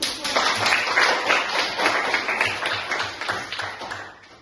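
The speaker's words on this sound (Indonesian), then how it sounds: "Oke, kita tepuk dulu." Children in an Indonesian classroom lesson clap together in a rhythmic class clap, a busy pattern of hand claps with faint voices mixed in.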